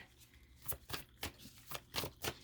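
Tarot cards being shuffled, a series of sharp riffling flutters arriving in quick irregular bursts, close by and moderately loud, with no talking.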